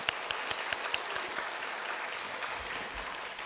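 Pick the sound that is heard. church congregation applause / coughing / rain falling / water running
church congregation applause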